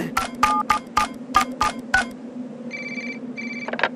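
A telephone rings during a quiz-show lifeline call: a rapid electronic trill in repeated bursts over a low hum, then a few higher electronic tones and a short clatter at the end.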